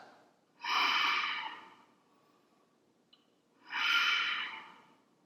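Two slow, audible breaths drawn close to the microphone during a standing yoga balance pose, each a soft airy rush lasting about a second, separated by near silence.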